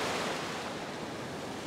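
Ocean surf washes onto a sunny beach in a continuous, loud, close roar of breaking water with no voices.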